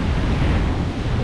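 Sea waves washing on a resort shoreline, a steady loud broadband roar of surf mixed with wind buffeting the microphone, with no voices.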